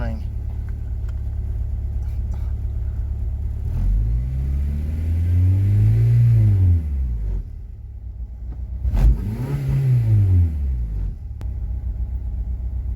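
A Honda H22A engine idles in a station wagon with a steady low rumble, then revs twice, each rise and fall clearly swelling and fading, with a voice talking over it.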